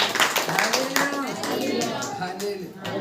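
A church congregation claps in steady rhythm during a worship meeting, the claps close and dense under a voice speaking.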